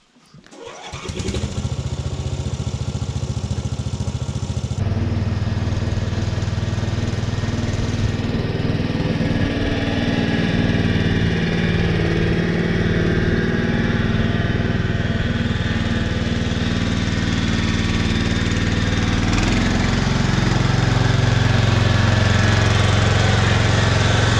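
A large Husqvarna lawn tractor, bought cheap as a broken machine, idles loud and close with a steady, throbbing engine drone that starts abruptly and runs continuously, shifting slightly in pitch near the end.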